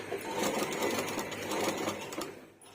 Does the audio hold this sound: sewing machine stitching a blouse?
yes